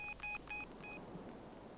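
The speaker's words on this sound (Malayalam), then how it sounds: "ഞാനൊന്ന് ഫോൺ ചെയ്യട്ടെ" A telephone keypad sounds four short dialing tones in quick, slightly uneven succession, clear and close over a quiet background.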